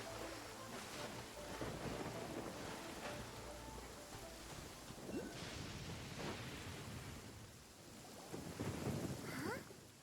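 Steady in-game rain pours throughout in Genshin Impact, with low rumbles of thunder rolling beneath and a louder swell near the end, no talk over it.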